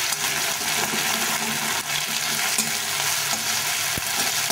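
A ginger-cumin paste fries in hot oil with dry chillies, whole cumin and a bay leaf, giving a steady close sizzle with occasional stirring scrapes and no talking.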